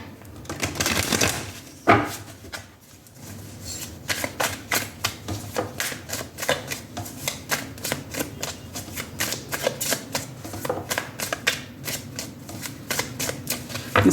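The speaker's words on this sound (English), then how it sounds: "let me quickly shuffle the deck." A deck of Scintillating Weight tarot cards being shuffled up close, a long run of rapid, crisp riffling flicks and soft slaps with no talking.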